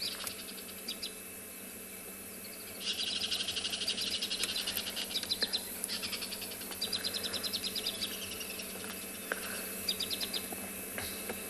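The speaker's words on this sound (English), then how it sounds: "we followed up on a squirrel that's shouting over here" Repeated sharp, chattering calls burst out in rhythmic runs over a steady outdoor background of insects and birds, fairly close and moderately loud.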